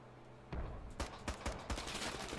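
Gunfire in the tactical shooter Squad: a burst of several sharp shots in quick succession, fairly loud, after a brief quiet start.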